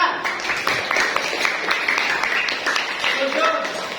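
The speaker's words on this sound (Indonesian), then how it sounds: "Ya, tepuk tangan." Group hand clapping in a classroom prayer lesson, with steady, dense clapping from many hands and children's voices mixed in throughout.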